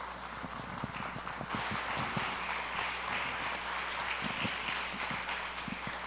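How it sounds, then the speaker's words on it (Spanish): A church congregation applauding, sustained clapping with sharper individual claps popping out near the front, steady and fairly loud over several seconds. "¿Por qué no le damos un aplauso al Señor por la vida de Kennedy?"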